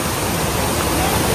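Shower Falls at Ampere, Dipaculao pours down in a loud, close, unbroken roar of rushing water with no pauses.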